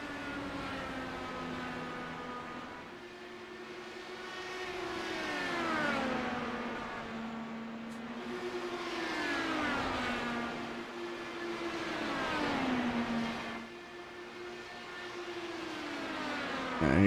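IndyCar engines in an iRacing league race at Phoenix whine at high pitch, rising and falling repeatedly as cars lap the oval, fairly faint and with no talk over them.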